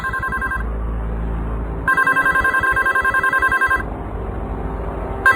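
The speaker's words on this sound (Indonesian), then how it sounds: "Ada suara telepon berbunyi di kamar itu." A telephone rings in a villa room in Bali, loud and close, in two long bursts of repeated electronic trilling separated by a short pause, with a third burst starting at the end.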